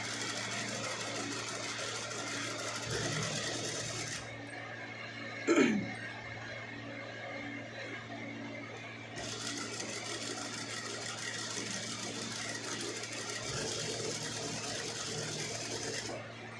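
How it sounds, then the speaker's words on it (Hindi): A sewing machine stitches fabric for a baby girl's frock with a steady whirring hum that stops for a few seconds midway and then starts again, with a brief throat-clearing sound in the pause. "थोड़ा सा मोटा बखिया रख के सिलाई लगानी"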